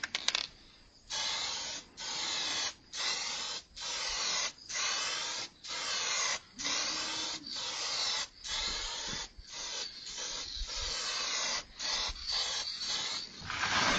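Spray gun laying two or three coats of paint and clear coat onto a repaired car body part, heard as about a dozen evenly spaced hissing bursts, each a second or so long with brief pauses between, close and steady with no talking.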